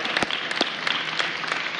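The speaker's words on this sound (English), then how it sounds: "give your coaches and parents a big applause in itself" An audience at a signing day ceremony applauds coaches and parents, a brief burst of brisk clapping with a few sharp individual claps standing out near the front.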